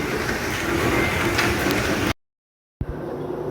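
Mustard oil mill running steadily as oil pours into a blue drum, a loud continuous mechanical rumble and clatter that cuts out abruptly, then resumes after a brief silence.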